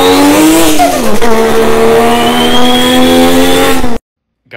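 A mouth imitation of a car turbo, a loud sustained whooshing spool with a rising whistle held for about four seconds, then cut off abruptly into silence.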